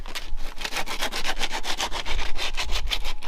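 Hand sanding of body filler on the bodywork of a BMW 325 tds, a steady rhythmic back-and-forth rasping with regular strokes, close and fairly loud, with no talking.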